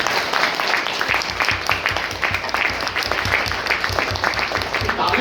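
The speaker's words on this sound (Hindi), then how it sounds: "वो ताली बजा दो।" An audience breaks into sustained clapping, a dense and fairly loud patter of many hands that keeps a steady pace for several seconds.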